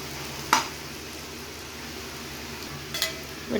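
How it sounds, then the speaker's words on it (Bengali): Bitter gourd, potato and onion bhaji frying gently on low gas, a soft steady sizzle running throughout with two brief scraping stirs of a spatula against the pan. "এভাবে আস্তে আস্তে কিন্তু জাল দিয়ে ভাজিটা তৈরি করতে করতে হবে"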